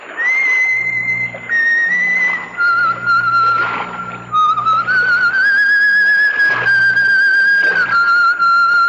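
Clear, sustained whistled melody with sliding pitches, loud and close, carrying on without pause over a faint low background rumble.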